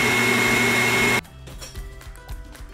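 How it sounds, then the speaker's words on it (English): An electric coffee grinder grinds whole coffee beans, loud and close with a steady whirring roar for just over a second, then cuts off, leaving a few light knocks and clatters. "We're gonna grind these beans up."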